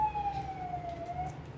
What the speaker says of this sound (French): On va laisser passer la police ou l'ambulance.